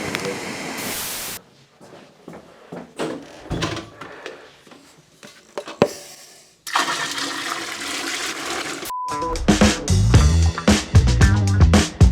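A toilet is flushed in a building, with a loud rushing burst of water near the end. Earlier come quieter knocks, clicks and handling sounds, and there is no speech.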